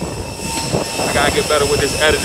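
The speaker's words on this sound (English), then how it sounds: "See the plane." An airplane's engine roars loud and steady nearby, with a person talking over it throughout.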